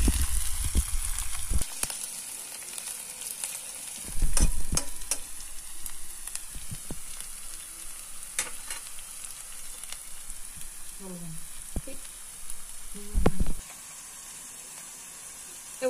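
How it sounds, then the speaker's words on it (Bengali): Ginger and onion paste with spice pastes frying in oil until browned, giving a continuous close sizzle punctuated by occasional spatula scrapes and clanks against the pan, with no voices. "পেঁয়াজ বাটা, এবং সবগুলো আমি একটু ব্রাউন কালার করে ভেজে নিচ্ছি"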